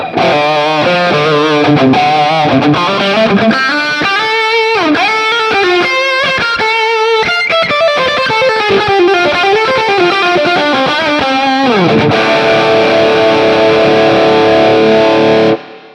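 Distorted electric guitar through a NUX MG-30 multi-effects unit and NUX wireless system, playing a fast lead line with bent, sustained notes, washed in springy reverb, loud and continuous, ending on a held chord that cuts off.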